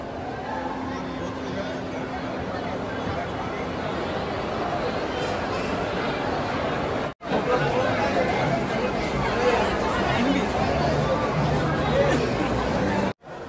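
A crowd chatters inside a busy shopping mall at Christmas: steady, dense babble of many voices, close and continuous, with a brief dropout midway.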